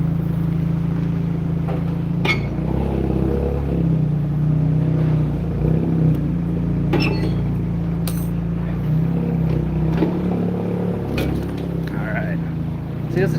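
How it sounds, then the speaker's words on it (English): A gasoline car with a modified exhaust drones steadily with a low, throaty rumble, heard from an electric trike behind it in traffic, while a voice talks over it. "has some modified exhaust on this car"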